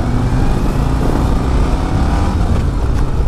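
A Harley-Davidson Road Glide 117 motorcycle engine idles with a loud, steady low rumble, close and continuous.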